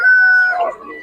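A rooster gives one loud, close crow at a market chicken seller's stall, a single drawn-out call lasting about a second.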